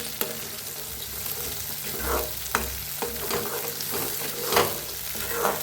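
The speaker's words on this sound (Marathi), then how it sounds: "आता जो मसाला बारीक करून घेतला होता आता भाजून घेऊया" Ground masala roasting in a pan with a pinch of asafoetida, a steady soft sizzle broken by occasional spoon scrapes and stirring knocks, close and fairly quiet with no talking.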